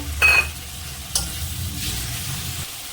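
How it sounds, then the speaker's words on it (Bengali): Spice masala with grated tomato sizzles loudly in hot oil while being stirred, opening with a bright splash and hiss, then a steady close sizzle with a few scraping strokes, and no voices. "আবারও মশলাটাকে একটু কষে নেব"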